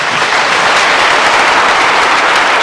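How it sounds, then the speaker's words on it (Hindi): Loud, dense applause from a roomful of students clapping with hands raised overhead, a steady continuous wash of claps with no talk. "जितनी जोर से ऊपर हाथ करके तालियां बजा सकते हैं"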